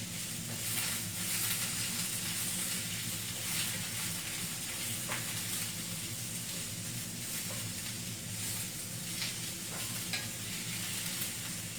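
Zucchini noodles frying in a pan over medium-low heat, a steady close sizzle with occasional stirring scrapes and small pops throughout, no voices.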